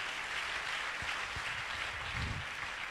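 A church congregation applauds in acclaim of the Lord Jesus, a steady, dense wash of clapping that holds at an even level throughout, with a few low thumps mixed in.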